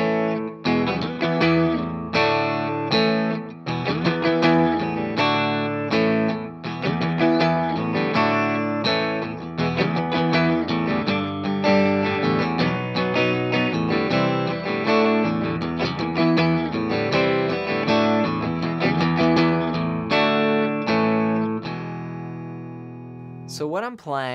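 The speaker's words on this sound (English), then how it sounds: "So what I've done is combine both the parts just for a one guitar approach." Electric guitar plays a single-guitar arrangement of a song that merges both guitar parts, a dense, driving run of strummed chords with distorted, effects-laden tone, continuous and loud for about twenty seconds before ringing out.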